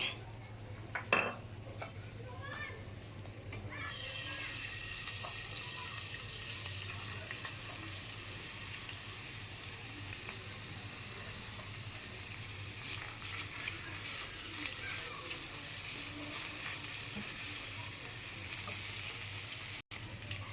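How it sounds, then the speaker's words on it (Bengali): Chopped onion fries in oil in a hot wok with a steady, fairly quiet sizzle. It begins with a few clattering knocks, then settles into an even hiss that runs on to the end. "এখন পরিমাণ মতো তেল দিয়ে পেঁয়াজ কুচিটা ভাজা দেব।"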